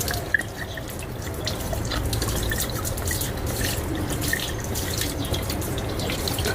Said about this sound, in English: The pouring speed is very slow, taking more than 13 seconds to empty the bottle.